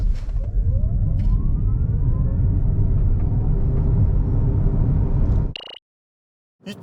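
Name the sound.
Hyundai Ioniq 6 electric car accelerating from standstill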